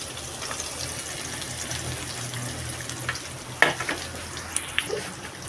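Onion and green chillies fry in a pan on high flame for girmit, a North Karnataka snack, with a continuous soft sizzle and several sharp clinks and scrapes near the end as the pan is stirred.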